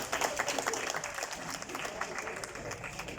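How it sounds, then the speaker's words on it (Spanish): Audience applause at an education conference session, a steady wash of clapping from a crowd lasting the whole stretch, moderately loud and fairly even with scattered sharper claps. "Un aplauso."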